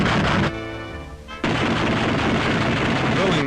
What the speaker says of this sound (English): testing the guns